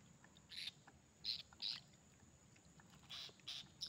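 Bird calls in a forest: several short, bright chirps come in separate bursts over a quiet background, fairly close.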